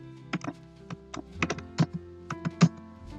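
A C program is typed on a computer keyboard, with irregular, distinct key taps and thunks, some in quick pairs, over a low steady hum.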